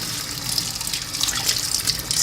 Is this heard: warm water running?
yes